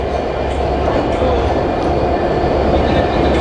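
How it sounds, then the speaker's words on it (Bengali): The Benapole Express train rumbles into a station in Bangladesh, a loud continuous low roar with faint clatter and hiss throughout. "এই যে আমাদের ট্রেন বেনাপুল এক্সপ্রেস এসে গেছে"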